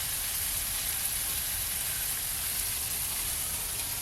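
A thick tomahawk steak sizzling in a hot pan, giving a steady, even hiss and crackle that carries on unbroken and fairly loud with no voices.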